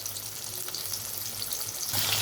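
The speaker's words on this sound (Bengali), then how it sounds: "এখানে আলু ভাজতে দিয়েছি" Potatoes frying in oil in a home kitchen pan, cooked for a rohu fish and potato curry; a steady, moderately loud sizzle crackles throughout, with no voices.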